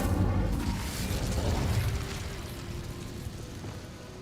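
Incendio fire spell cast on a spider web in Hogwarts Legacy, a loud booming burst of flame that rumbles low, then decays into a softer crackling whoosh.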